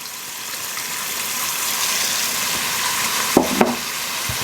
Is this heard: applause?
no